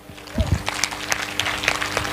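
An audience claps at a poetry recitation during an Ambedkar Jayanti programme. The clapping is scattered and irregular, at moderate loudness, over a noisy, crowded room.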